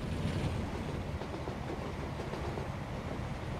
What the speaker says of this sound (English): There's a train coming there.